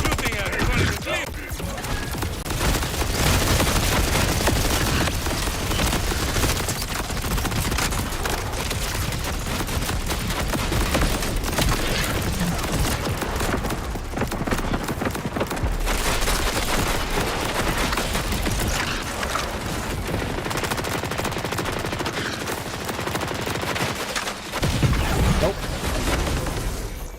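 Sustained Borderlands 4 video game combat: rapid gunfire bursts and occasional booms layered over busy game sound for nearly half a minute, with a voice talking over parts of it.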